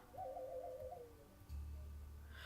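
Bird calls in the survival game Niche, a soft hooting, owl-like tone followed by a low droning note, faint and alone with no talk.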